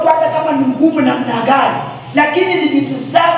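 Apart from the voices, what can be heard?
None of the usual background noises is heard.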